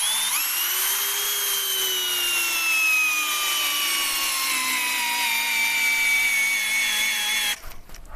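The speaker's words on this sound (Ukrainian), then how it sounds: "І спробуємо засандалити його у терець бруса без засверлювання." A cordless Einhell TP-CD 18/12 screwdriver drives a long 12x300 screw into the end grain of a timber beam without pre-drilling, a loud steady motor whine that slowly drops in pitch under load before cutting out abruptly.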